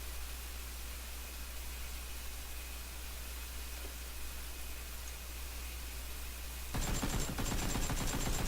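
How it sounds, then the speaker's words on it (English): AK rifle fire in a video game: after a stretch of quiet hiss, a rapid burst of automatic shots rattles out near the end, fairly faint and fast-paced. "I shot him how many times with an AK?"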